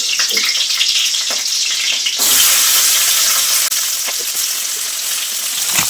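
Green chillies frying in a pan, a continuous loud hissing sizzle that swells sharply partway through and keeps crackling steadily, with no talk.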